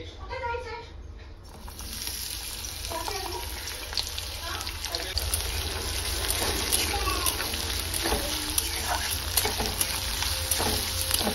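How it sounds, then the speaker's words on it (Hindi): Sliced onion fries in hot oil in a pan for pepper paneer, giving a loud, continuous sizzle with occasional stirring scrapes, heard close up. "प्याज फ्राई हो गया है"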